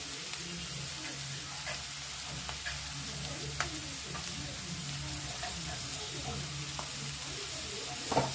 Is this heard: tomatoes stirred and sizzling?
yes